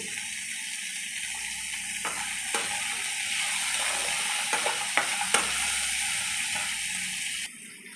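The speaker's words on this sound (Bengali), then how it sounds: "দিয়ে এই মশলার মধ্যে একসঙ্গে সব ভেজে নেব" Chopped onion fries with spices and cashews in oil, a steady hiss under repeated scraping stirs of a spatula against the pan, close and even, ending abruptly.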